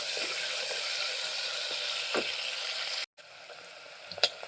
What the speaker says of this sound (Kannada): ಈಗ ಈರುಳ್ಳಿನ ಹಾಕಿ ಸ್ವಲ್ಪ ಫ್ರೈ ಮಾಡ್ಕೊತೀನಿ.